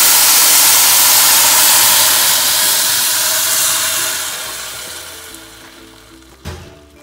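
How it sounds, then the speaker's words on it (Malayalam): Boiling water poured into frying vegetable biryani masala in a pot, a loud sustained hiss and sizzle that slowly fades over several seconds, with a brief clatter near the end. "ഇനി നമുക്കിതിലേക്ക് 10 കപ്പ് വെള്ളം ചേർക്കാം."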